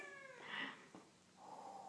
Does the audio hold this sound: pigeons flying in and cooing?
no